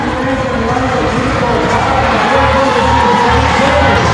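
A packed arena crowd roars steadily through a short track ice skating final at the 29th SEA Games, loud sustained cheering and whooping under a commentator's voice.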